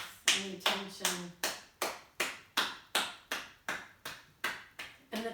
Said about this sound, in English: And clapping your hands